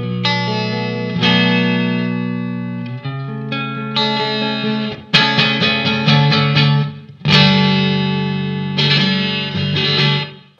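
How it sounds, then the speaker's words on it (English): A clean electric guitar tone played through a Digitech Obscura Altered Delay pedal rings out in sustained chords and picked single notes with a light delay trail, loud and close with no talking. "This is my clean tone."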